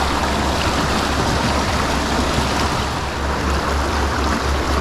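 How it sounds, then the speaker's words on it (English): The Little East Fork River near Canton, North Carolina, flows with a steady, full rushing wash of water that fills the whole clip without pause. "This is the Little East Fork River, is what this is."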